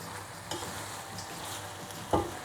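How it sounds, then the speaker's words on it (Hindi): Chopped onions frying in a pan for Pakistani keema, a soft steady sizzle broken by two sharper scraping knocks of a stirring spoon, with no talking. "इसको आपने ऐसे ही भूनते रहना ज़रा। जैसे ही ये थोड़ा सा नरम पड़ता है प्याज"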